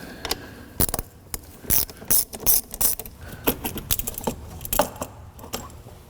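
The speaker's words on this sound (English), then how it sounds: "I'm going to start by removing the ground cable first." A ratchet clicks in quick bursts while loosening the ground cable on a 2007-2013 Mini Cooper S (R56) battery, with close metallic clatter and short pauses between strokes.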